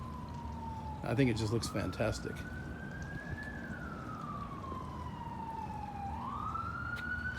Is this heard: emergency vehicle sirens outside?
yes